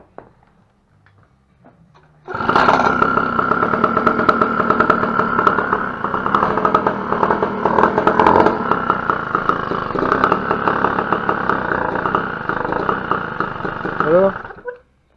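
A 103 Ninja moped engine starts after a couple of seconds of quiet handling sounds, then runs loud and close at a busy, buzzing idle for about twelve seconds before cutting off.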